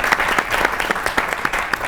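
Studio audience on a Pakistani comedy talk show clapping in a brisk, uneven burst of close, sharp handclaps that carries on for a couple of seconds.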